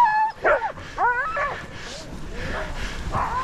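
Sled dogs bark and yip in short, whiny bursts close by in the mountains, with excited, high-pitched cries coming in quick succession.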